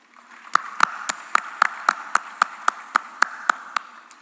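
Sharp, evenly spaced claps at the Shanghai Cooperation Organisation Film Festival in India, around thirteen crisp strikes at a steady rhythm over four seconds, ringing in a resonant hall with few other sounds.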